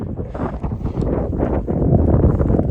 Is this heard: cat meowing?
no